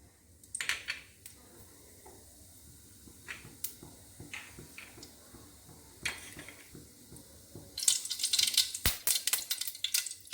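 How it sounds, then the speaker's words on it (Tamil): Mustard seeds spluttering in about two spoons of hot oil in a pan, scattered crackles and pops that build into a dense burst of sharp spattering near the end. "கடுகு நல்லா வெடிச்சிருச்சு."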